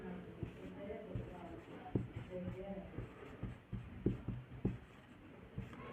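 During a class 10 maths lesson on polynomials, chalk or a marker scratches and taps on a board in short strokes, with a faint, soft sound and the teacher's voice in the room.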